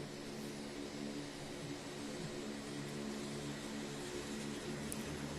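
An air force aircraft flies over the Purvanchal Expressway, with a steady broad engine roar that holds at a constant level throughout, with no voices.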